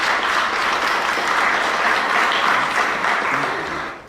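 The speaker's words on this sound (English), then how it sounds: "so please give them a round of applause as well" A crowd at a city's State of the City address gives a round of applause to city staff, dense, even clapping close and loud throughout, then tapering off quickly at the end.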